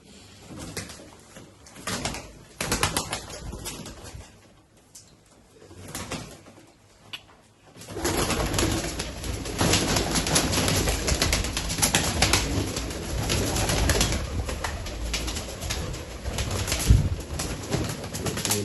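Taddy, Golden or Sialkoti pigeons coo and flap close by in a loft, a low burst of wing activity and shuffling building into steady, dense noise in the second half.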